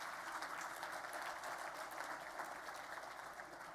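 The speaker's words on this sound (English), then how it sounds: "So a round of applause again for all the awardees." Steady applause from an audience honoring awardees at a Marymount University Educator of the Year award ceremony, dense and continuous for the whole stretch, moderately distant with no voices over it.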